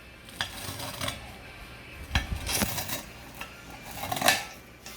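A knife cuts through crispy pan-fried noodles on a plate, several separate crunching cuts and clinks at uneven intervals, close and fairly quiet.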